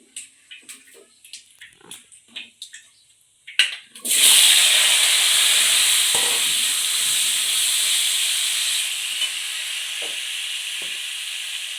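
Cut potatoes drop into hot oil already tempered with bay leaf and whole cumin. A loud, steady hiss and sizzle bursts in and runs on, slowly easing, after a few soft clatters at the start.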